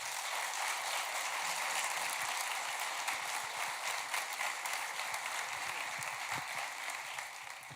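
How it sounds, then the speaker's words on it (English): An audience applauds a panel at a live-streamed industry event, dense, even clapping from many hands that holds steady at moderate loudness throughout. "could we get a round of applause for our panel"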